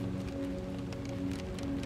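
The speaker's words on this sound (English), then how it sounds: "Pellets of rain drum against your window, but the train quickly passes through the storm." Rain drums against the window of a moving train passing through a storm, a steady dense patter blended with a constant low rumble of the train, close and even throughout with no voices.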